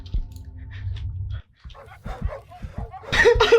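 Dogs bark and yip in the video game Bring Me That Shawarma, a few sharp close barks and whimpers that build into a louder burst near the end, with a voice talking partway through.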